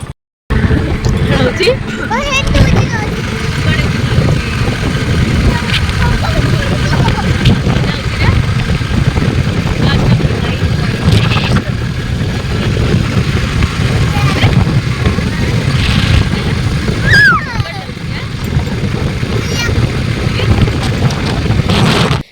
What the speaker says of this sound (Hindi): Etah more fast bike ride for दिया